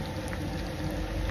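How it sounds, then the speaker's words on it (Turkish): Potatoes frying and being sautéed in a pan give a steady, close, dense sizzle with fine crackling throughout, heard alone without talk. "Patates kızartma yapıyoruz şimdi."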